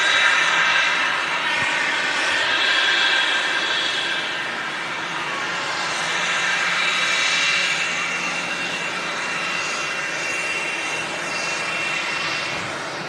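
A Cessna Citation XLS business jet arrives at Manchester Airport from Exeter, its jet engines producing a sustained whine and roar that swells gently and holds steady, fairly loud and alone.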